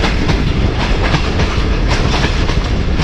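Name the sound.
train running on rails, clickety-clack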